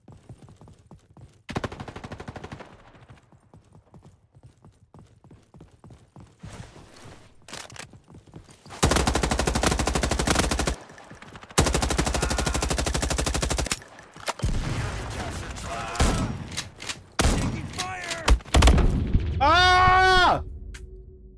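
Gunfire from the Frontlines video game: loud bursts of automatic fire in long sustained stretches between quieter moments, with scattered single shots and other game effects, ending in a rising whistling effect.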